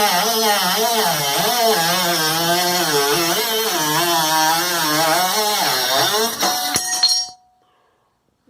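A Ryobi One+ cordless cutoff tool slices through 3/16 steel stock with a loud, steady high-pitched whine and grinding rasp for about seven seconds, then cuts off abruptly into near silence.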